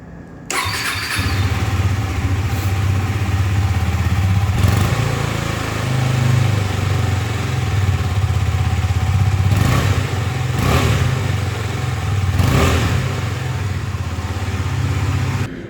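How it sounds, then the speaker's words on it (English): A 2022 KTM Duke 250 single-cylinder motorcycle sits idling with a steady, close exhaust note, broken by several sharp throttle blips that rev the engine up and let it fall back, with no talking. "Now let us listen to the exhaust note."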